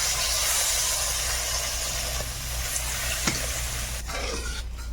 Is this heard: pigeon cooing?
no